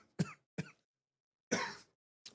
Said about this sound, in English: It was kind of funny that you coughed.